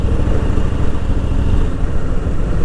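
A Harley-Davidson Fat Boy motorcycle cruising in fifth gear at about 60 km/h and 1550 rpm, its engine a loud, steady low-pitched rumble heard close up with no break.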